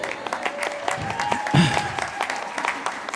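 Audience applause during a Sunday worship service, a dense patter of many hands clapping steadily throughout, fairly close and moderately loud with no talk over it.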